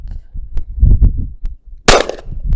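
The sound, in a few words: handgun shots fired double action at a target about 30 yards away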